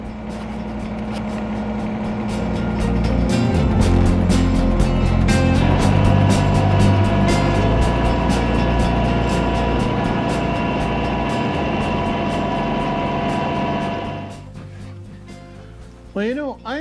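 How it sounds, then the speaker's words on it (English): A snowblower runs steadily while clearing a driveway, its loud engine and churning drone holding for about fourteen seconds before cutting out, followed by a brief quieter stretch with a short burst at the end. "fortunately I stopped quick enough to prevent any damage to the snowblower"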